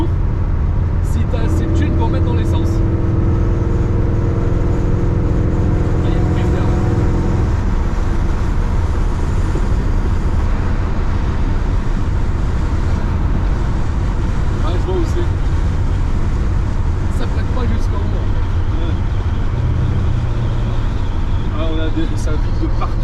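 Loud, steady engine and road rumble heard from inside a moving Corvette C3, with rattles and vibration throughout and someone talking over it.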